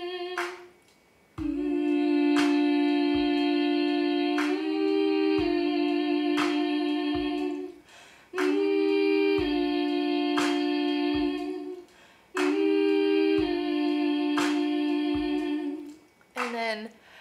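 Hummed melody in two-part harmony for a work song, a sustained low tone held beneath a second higher line, in phrases of about four seconds with brief gaps between them and no spoken words.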